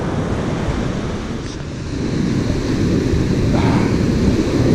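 Gentle ocean waves wash continuously at Martin's Beach, a steady broad surf roar mixed with wind buffeting the microphone, with no distinct individual breakers.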